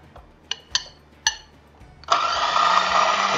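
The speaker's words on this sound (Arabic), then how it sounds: "هنزل الأول باللحمة المفرومة في الكبة" Food processor mincing ground meat for kofta: a few light clicks and taps, then the motor kicks in with a steady loud whirring hum that continues to the end.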